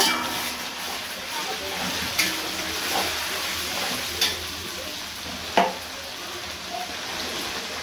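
Ground spice paste frying in a pan with onions, stirred steadily with a utensil; a continuous close sizzle runs throughout, punctuated by a few sharp scraping clicks of the spoon against the pan.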